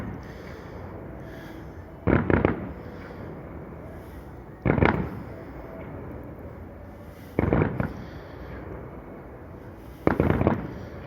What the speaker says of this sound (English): They're shooting them off over the park, but they don't go high enough to see it from where we are.